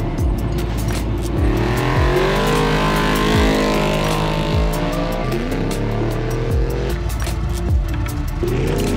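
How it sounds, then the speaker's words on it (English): Off-road race buggies and extreme two-wheel-drive race cars setting off at the Finke desert race in Australia: loud, layered engine revving with repeated gear-change drops and rising pitches, several vehicles overlapping continuously. "So all of the extreme two wheel drives are about to go out"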